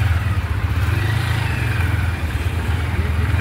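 A motorcycle runs steadily after a front tyre puncture repair, a low, even, throbbing engine hum at close range that holds constant throughout, with no speech.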